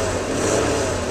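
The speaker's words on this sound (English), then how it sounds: "Okay, the Jeep is running, and it's in 4x4 low." A 1983 Jeep CJ7 engine runs steadily in 4x4 low, a warm idle at about 900 RPM. The close, even mechanical rumble continues without a break.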